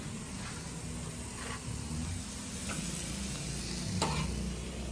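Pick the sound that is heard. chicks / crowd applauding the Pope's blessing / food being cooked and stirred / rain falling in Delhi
food being cooked and stirred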